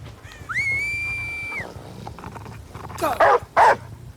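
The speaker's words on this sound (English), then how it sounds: "The dog did not go around the corner like he was supposed to." The Houndmaster's dog in the video game Dead by Daylight gives a rising whine and then two sharp, loud barks close together, over faint game ambience.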